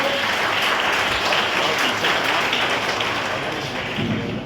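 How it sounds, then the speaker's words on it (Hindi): Loud, dense applause from an audience at a college Gandhi Jayanti and foundation day event, steady clapping that fills the whole span without speech. "और एक बार जोरदार ताली बजा दीजिए।"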